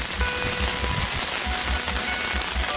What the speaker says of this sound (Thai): ฝนตกฟ้าห้องครับพี่น้อง